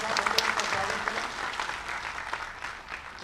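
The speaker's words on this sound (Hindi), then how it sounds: "तालियों की गड़गड़ाहट के साथ उनका स्वागत करें" A large crowd applauds steadily and loudly in dense, continuous clapping to welcome the chief minister at a public ceremony during a presidential visit to Sant Kabir Nagar.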